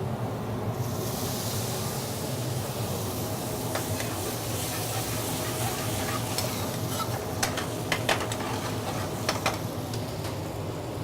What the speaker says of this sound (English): We're going to deglaze the pan with a curry base that we have already made